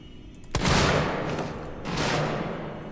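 Two heavy gunshots sound in a video game, the first a sharp crack with a long rumbling tail and the second a softer boom about a second later. Both are loud and close, with no talking over them.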